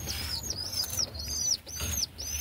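Pigeons in a pigeon loft flap their wings in repeated bursts of fluttering, close by, with chirps and soft cooing mixed in over a steady low hum.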